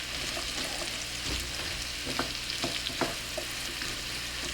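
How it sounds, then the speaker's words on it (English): Apple pieces get stirred in melted butter in a pan for a puff pastry strudel, giving a constant soft sizzle with a few scraping and tapping strokes from the utensil midway through. "And just give them a stir with the butter"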